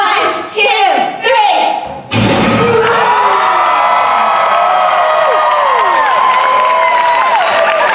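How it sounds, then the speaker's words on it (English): Audience thunder clap at a live tavern comedy show: after a short lull, a sudden loud collective slam of claps and stomps bursts out, followed by sustained cheering, whooping and shouting from the crowd. "And that's our thunder clap."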